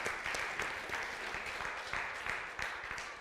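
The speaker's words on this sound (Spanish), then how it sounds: "Démosle un buen aplauso al Señor." A church congregation claps in a quiet, rhythmic beat, the hands landing together in regular pulses for a few seconds with faint voices underneath.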